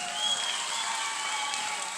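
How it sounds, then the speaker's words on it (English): An audience at a grand final show gives steady, moderately loud applause as the Colgate Palmolive general manager leaves the stage, with a faint tone ringing over the clapping. "Give him a round of applause as he makes his way off stage"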